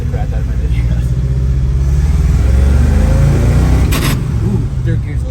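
An International Harvester Scout II drives along, its engine rumbling loudly and close, rising in revs as the driver works the gearbox, with a brief knock around a shift near the end.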